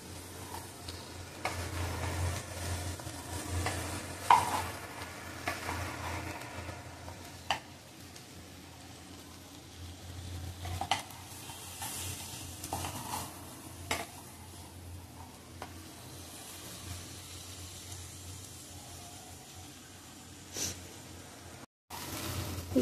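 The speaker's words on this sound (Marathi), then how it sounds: "एकदा परतून घेऊया भेंडी" Okra (bhendi) stir-fries in a pan over a lowered gas flame, a quiet steady sizzle broken by occasional scrapes and taps of a spatula against the pan, close and unhurried.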